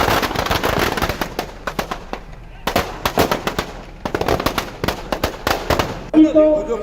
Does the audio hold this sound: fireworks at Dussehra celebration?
yes